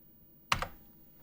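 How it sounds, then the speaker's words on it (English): A quick burst of two or three keystrokes clatters on the keyboard of a Fairlight CMI IIX computer, brief crisp clicks close by in an otherwise quiet room. "I do that simply by typing new,"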